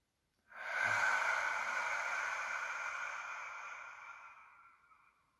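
One long, deep breath drawn close to the microphone during a guided breathing exercise, a soft airy rush that swells quickly and slowly fades out, heard alone in silence.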